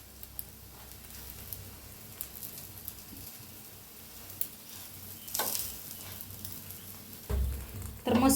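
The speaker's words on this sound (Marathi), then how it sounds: "तर मस्त छान असं भाजायला लागलेलं आहे." An egg flatbread roasts in oil on a pan with a quiet, steady sizzle and light crackle, followed near the end by louder bursts of spattering and scraping.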